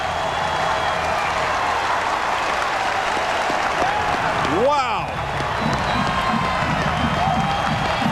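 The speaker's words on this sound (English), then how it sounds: "They've got this crowd at Rutgers Stadium into this game" Stadium crowd roaring and cheering at Rutgers Stadium during a college football game between Virginia Tech and Rutgers, a loud sustained wash of voices and applause with a brief whistle-like swell near the middle.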